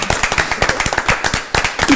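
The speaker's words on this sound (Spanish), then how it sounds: "¡Un aplauso! ¡Muy bien," Short burst of audience applause at a live band show, rapid overlapping claps close and loud, briefly dipping and resuming.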